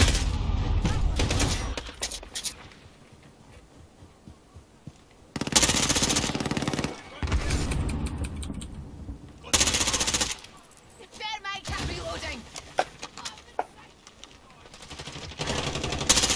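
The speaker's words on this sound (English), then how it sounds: "Horrible, horrible, horrible shooting." Call of Duty team deathmatch gunfire: loud bursts of automatic rifle fire in several separate volleys, some long and sustained, with quieter gaps between them.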